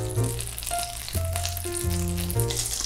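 Butter and oil sizzle softly in a pan over very low heat before Japanese soufflé pancakes are cooked, a continuous gentle frying hiss with faint tonal hum, close and without talk.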